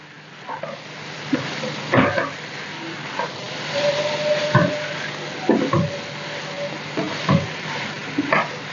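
Mixed vegetables frying in a pan with onion and tomato, a steady close sizzle broken by intermittent scraping stirs as the spoon moves them around.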